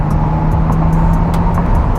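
A McLaren sports car driving over speed bumps and train tracks gives a loud, steady rumble of road and engine noise inside the cabin, with a few faint knocks. No one speaks.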